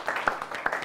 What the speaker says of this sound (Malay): kita beri tepukan kepada kumpulan Ain